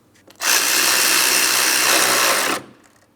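A power tool tightening a 10mm bolt on the fan assembly during a radiator replacement on a 2004-2008 Pontiac Grand Prix 3.8L V6, one loud continuous whir of about two seconds with a sharp start and stop.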